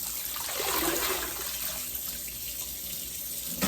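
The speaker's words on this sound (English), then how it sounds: "start running the water in this sink" Tap water runs steadily into a kitchen sink for rinsing collard greens, a broad continuous hiss and splash heard close and alone throughout.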